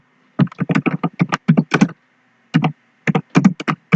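Fingers typing on a computer keyboard, crisp close clicks in quick irregular bursts with short pauses between words, no voices.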